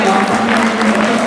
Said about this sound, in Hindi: सारे बच्चों ने तालियां बजा के हाथ अपने रते रते कर दिए